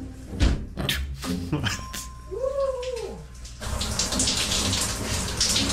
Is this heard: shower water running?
yes